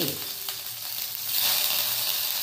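Brinjals and tomatoes roast in a pan over a low gas flame, giving a steady soft sizzle that swells a little louder partway through, close by with no talk.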